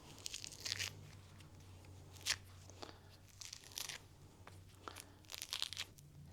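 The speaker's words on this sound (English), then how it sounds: "Practicing awareness while peeling an orange." Orange being peeled by hand, with close, quiet tearing and crackling bursts of rind repeating irregularly against a low background hum.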